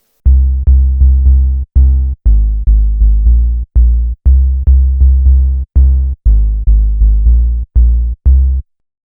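Deep, heavy bass synth from an Elektron Analog Four, played as a loud, punchy sequence of short repeated notes in a steady rhythm, with brief gaps between phrases and no talk.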